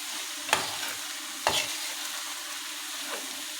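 Liver, sausage, spleen and kofta stirred together in a hot pan, a couple of sharp spoon scrapes over a soft steady sizzle, close and moderately quiet with no talking.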